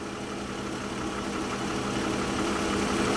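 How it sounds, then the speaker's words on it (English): A BMW E46 idles steadily after a camshaft tray swap meant to cure lifter rattle, oil still cool, giving a continuous even hum with faint vibration, close by and moderately quiet, no voices. "Car is still idling"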